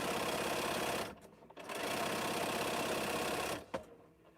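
A sewing machine runs at speed, stitching a T-shirt quilt border, with a loud, fast, steady whir that stops twice briefly before starting again.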